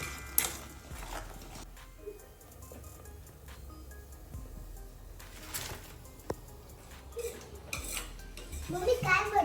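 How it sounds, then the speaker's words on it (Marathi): A spoon stirs ground spices into a vegetable gravy in a pan, giving soft scraping and intermittent clinks of metal on the pan, fairly quiet, with a few sharper knocks and no speech. "हे मिक्स करू छान"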